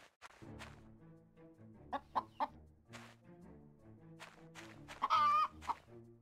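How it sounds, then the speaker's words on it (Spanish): A chicken in the farming video game My Time at Portia clucks in short, bright bursts over a quiet game backdrop, with a few louder squawks near the end and no talking. "Yo no había visto esta gallina."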